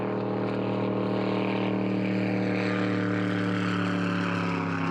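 A powerful racing speedboat engine at a waterski race roars steadily and loudly throughout, a dense, continuous drone with no voices.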